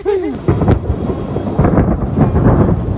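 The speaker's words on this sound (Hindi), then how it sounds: "अभी एकदम से बहुत तेज बारिश शुरू हो गई है" Heavy rain and thunder at a riverside ghat in Rishikesh: a loud wash of downpour with rumbling thunder rolling through, steady and close, with no speech.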